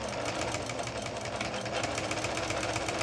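A Singer Monami household sewing machine, a Japanese domestic model with a cast-iron body, runs a steady straight stitch after repair, its fast even motor whir and needle clatter continuous and close with no pauses.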